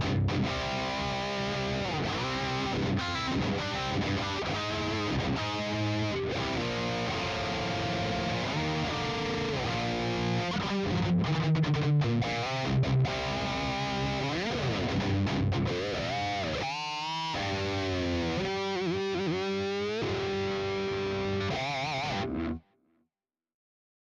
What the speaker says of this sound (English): I'm playing through the EVH 5153